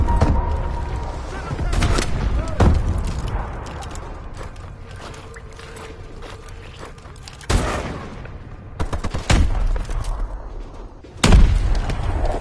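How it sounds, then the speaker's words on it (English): Missile strikes in the video game Advanced Warfare, several heavy booms and blasts scattered through the stretch over a rumbling battlefield background, with some radio-style voices. "Friendly missile strikes inbound."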